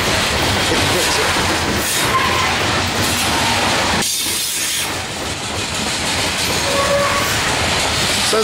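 Norfolk Southern manifest freight train rerouted via Roanoke rolls past close by, a loud continuous rumble with hissing and steady rail clatter throughout, briefly dipping midway before surging again.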